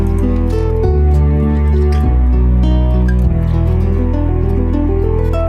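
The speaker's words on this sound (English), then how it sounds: "So I will show you today how I went from a rough mix that sounds like this" A rough, unmastered mix of an acoustic guitar song plays continuously, dense, bass-heavy, thick and a bit muddy, with sustained low notes and strummed layers, no voices over it.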